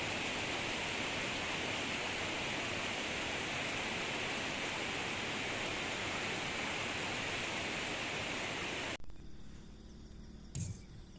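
The Citarum river rushes with a loud, dense, continuous roar for about nine seconds, then cuts off abruptly to quiet ambience with a faint bump near the end.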